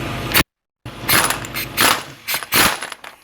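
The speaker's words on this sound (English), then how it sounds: "I'm going to take my balancer bolt off." A ratchet works loose the crankshaft balancer bolt on a 2006-2012 Honda Ridgeline during a timing belt job, sounding as several close, loud bursts of rapid clicking separated by short pauses.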